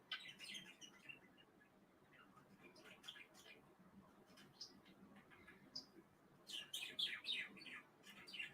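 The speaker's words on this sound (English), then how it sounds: "You're singing so pretty. Pretty bird." A pet bird sings indoors in high, quiet chirps and trills, sparse at first and then denser toward the end, with soft room noise underneath.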